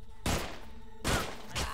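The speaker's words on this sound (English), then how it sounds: "Explosions." Explosions in the twin-stick shooter Utopia 9, three booming bursts in quick succession, each a sharp, loud blast with a short decaying tail over quiet game ambience.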